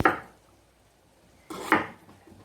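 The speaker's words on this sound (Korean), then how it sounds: "오이는 이렇게 3cm 길이로 이렇게 썰어줍니다" A knife cutting cucumber into 3 cm pieces on a board: two distinct chopping thuds about a second and a half apart, close and crisp, with quiet pauses between.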